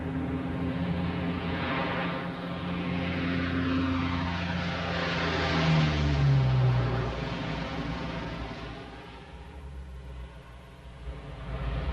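A Lockheed P-3 propeller aircraft on a photo reconnaissance flight drones steadily overhead, its engine tone rising slightly and shifting pitch as it passes, with no talk.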